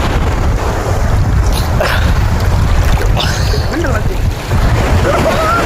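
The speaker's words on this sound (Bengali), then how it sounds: "এই দেখতে পাচ্ছ ঢেউটা," Gentle sea waves wash at Bakkhali beach in a loud, continuous hiss, mixed with heavy wind buffeting the microphone and a voice talking.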